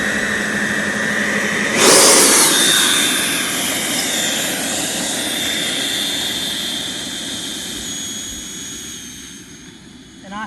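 An RC MiG-29 electric ducted fan jet takes off with a loud, rising whine and rushing roar that swells suddenly near two seconds, then holds and slowly fades as it climbs away.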